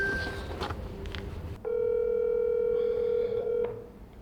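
An unanswered telephone rings once with a steady electronic tone lasting about two seconds, following some faint background noise, then trails off into quiet.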